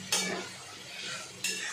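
Goat liver and onions being stir-fried in a pan, with a metal spatula scraping and clinking against the pan in two sharp bursts over a low continuous rustle, close and fairly quiet.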